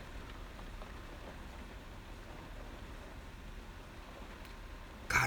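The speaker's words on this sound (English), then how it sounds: "Oh, it's raining hard." Heavy rain falls in a steady, dense hiss that stays even throughout, with a brief louder burst right at the end and no voices.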